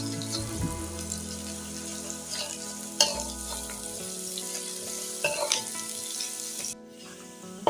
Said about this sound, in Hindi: अब इसमें अदरक और लहसुन का पेस्ट डालते हैं 1 चम्मच, और इसको भी हल्का सा फ्राई कर लेना है।